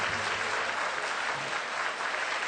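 Congregation clapping in praise during a Malayalam Catholic sermon on fasting, a dense, steady wash of many hands that carries on throughout the whole stretch at moderate distance.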